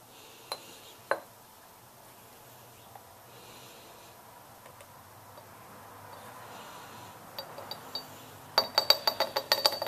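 Small spoonfuls of liquid go into glass cups, light glassy clinks and ticks scattered through a quiet stretch, then a quick cluster of sharper tinkling taps near the end.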